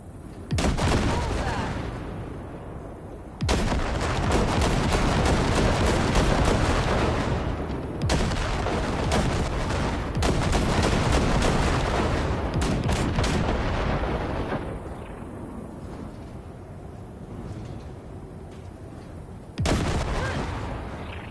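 Ship cannons on the Basilisk, a cargo vessel in Cyberpunk 2077, pound away at floating wrecks in long, dense bursts of loud gunfire and booms, with brief lulls between volleys.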